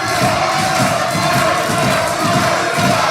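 Crowd chanting at a professional wrestling match, a dense, steady roar of many voices filling the arena with rhythmic pulses and no clear break.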